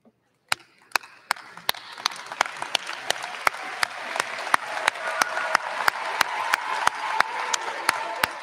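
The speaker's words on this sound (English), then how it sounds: "let's give them a round of applause." A graduation crowd at a high school ceremony claps steadily, starting with a few sharp claps that swell into sustained applause from a large audience in a big hall, loud and continuous to the end.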